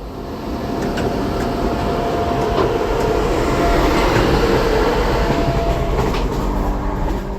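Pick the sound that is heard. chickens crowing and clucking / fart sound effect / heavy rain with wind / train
train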